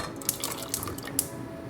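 Water pours steadily into a pot for Jamaican rice and peas, a continuous close splashing stream with small bright plinks on top, and no voices.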